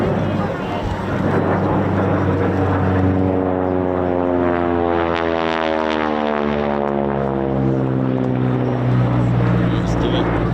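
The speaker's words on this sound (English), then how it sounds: "And here it is, in from the right. Here we go. The Nordine Harvard 2B of the Rolls-Royce Heritage Flight." A Noorduyn Harvard 2B propeller trainer of the Rolls-Royce Heritage Flight passes at an airshow, its loud, steady engine drone sliding in pitch as it sweeps by, with a commentator talking over it.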